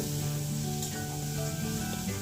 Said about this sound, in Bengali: পেঁয়াজ কালো জিরে টমেটো কাঁচা লঙ্কা একসঙ্গে ভেজে নেব